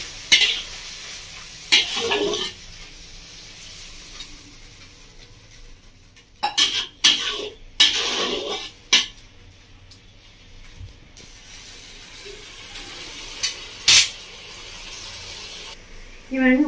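Red amaranth greens being stirred with spices in a pan for a Bengali prawn ghonto, with a soft background sizzle broken by several loud scraping and clanking strokes of a spoon against the pan, no speech.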